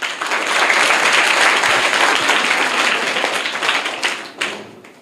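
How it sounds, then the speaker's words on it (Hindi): Classroom of schoolchildren at a government school in Bihar clapping loudly together for a correct answer, steady dense applause for about four seconds before fading with a last scatter of claps. "करेक्ट आंसर है, जोरदार तालियां"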